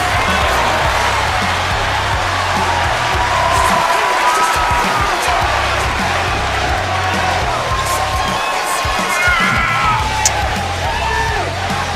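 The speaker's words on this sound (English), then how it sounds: "Just let you listen to the crowd." A large, loud crowd at a wrestling show in Detroit cheers, whoops and yells continuously, with rhythmic stomping or pounding underneath.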